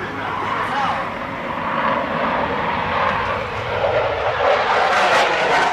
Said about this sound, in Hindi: अमरीकी कंपनी लॉकहीड मार्टिन के F-16 लड़ाकू जहाज ने भी हैरतअंगेज करतब दिखाकर लोहा मनवाया